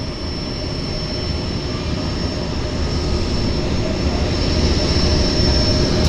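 A fixed-wing airplane flying near Vancouver's downtown Harbour airport on a cloudy day, its steady engine drone filling the clip at a loud, even level with no talk.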